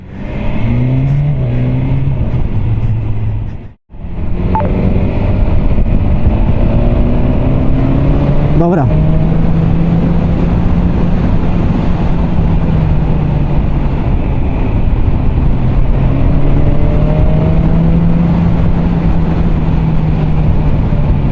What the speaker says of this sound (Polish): jak się zamyka gaz, to nawet na oryginalnym tłumiku to ładnie robi pyr pyr pyr